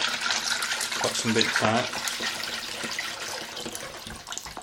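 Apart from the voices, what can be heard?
water filling a bowl from a tap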